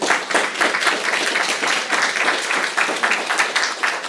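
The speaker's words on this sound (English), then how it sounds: "So give them a round of applause for thank you." An audience applauds steadily, a dense wash of clapping at even loudness throughout.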